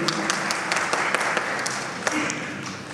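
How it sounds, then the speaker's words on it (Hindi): An audience at an awards ceremony, the BMA Visionary Awards 2022, breaks into steady applause, a dense roomful of claps with scattered louder single claps, a voice faintly audible underneath. "एक बार जोरदार तालियां।"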